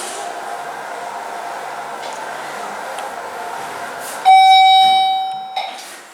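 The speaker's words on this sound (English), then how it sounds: "The bells were ringing upstairs." An alarm bell rings in a university tower elevator shaft, a loud steady ringing tone that starts abruptly partway through over a low mechanical hum, then cuts off and fades.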